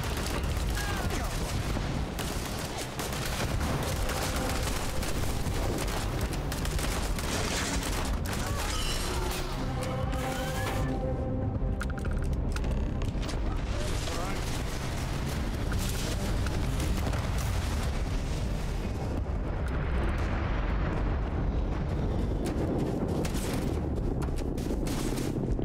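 Dense space-battle combat from Starfield: sustained ship gunfire and booming explosions pile up continuously at full loudness, with a voice speaking partway through.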